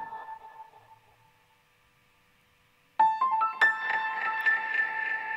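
Piano run through AIR Delay Pro with diffusion raised, first a faint fading tail, then after a pause a loud, dense wash of sustained piano notes smearing into a reverb-like stereo blur.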